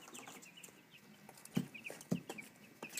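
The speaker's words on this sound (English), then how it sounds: "these are just cute little normal chicks pecking at holes in the side of their box" Young chicks in a box peck at holes in its side, making a couple of sharp taps and soft knocks among faint, high cheeping. The sounds are quiet and close.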